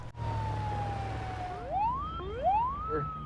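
Police car siren in a TV series, loud and close, starting with a long falling tone and then rising in two wailing sweeps over a low engine rumble.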